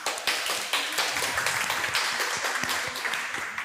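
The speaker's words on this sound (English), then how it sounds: "A great applause" Audience applause for a speaker at a citizen science talk on AI and art, a steady patter of many hands clapping that fills the room for several seconds with no voices over it.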